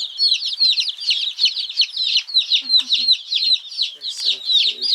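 Small young chicks cluck and peep in rapid, high chirps near a chicken tractor, a busy chorus of close, repeated calls with faint low bumps beneath.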